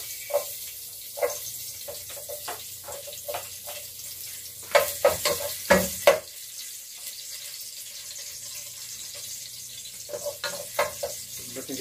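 Garlic sautéing in a pan gives a faint, low sizzle under a series of sharp spatula scrapes and clatters. The clatters come in scattered bursts, with a busier cluster in the middle.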